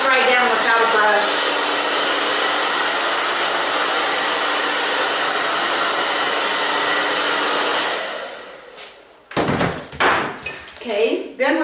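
A hair dryer drying hair during a haircut styling session roars steadily and loudly for about eight seconds, then cuts off, followed by clattering handling noises.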